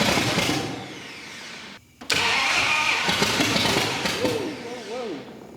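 A 1958 Plymouth barn-find car with a new engine cranks and fires up, the loud engine catching and running rough with a short gap before roaring on, flames popping from the exhaust, while someone talks over it.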